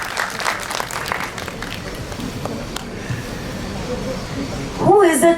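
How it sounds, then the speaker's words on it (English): Audience applause at a school orientation day for fifth and sixth grade classes, a steady wash of clapping mixed with crowd noise that runs throughout. A brief tonal sound rises near the end. "Huge round of applause."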